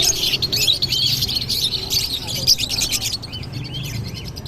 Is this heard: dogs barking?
no